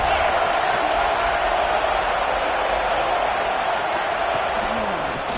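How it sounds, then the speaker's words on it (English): Dense, steady roar of a large stadium crowd cheering and shouting at a football game, continuous and loud throughout with no pauses. "This crowd bringing the energy and noise early."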